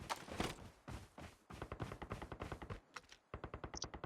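Rapid automatic gunfire in Call of Duty, a Battle Royale team match, heard as several bursts of quick, evenly spaced shots with brief pauses between them.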